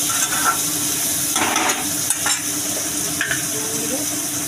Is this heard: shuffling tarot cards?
no